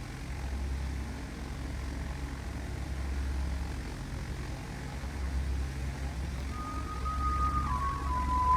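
A propeller aircraft in Flight Simulator X, taking off from GCRR, drones steadily up close and builds slowly in loudness, with a faint rising whine near the end.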